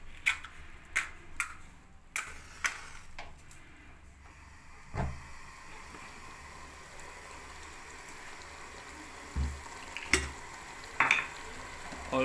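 Goat tripe (ojhri) curry fries in a pan over a flame with a low continuous sizzle. A few sharp clicks and stirring knocks come early, then sparse utensil taps break the frying later.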